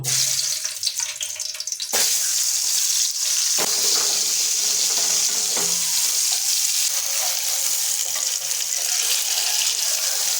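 Eggs crackle and sizzle steadily in hot oil in a frying pan, a continuous frying hiss with a few clatters and taps near the start.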